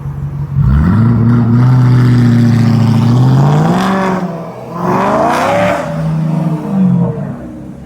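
Several car engines rev hard nearby, rising and falling pitch sweeps from more than one vehicle, loud and sustained, with one engine pulling up strongly before easing off into lower throttle blips.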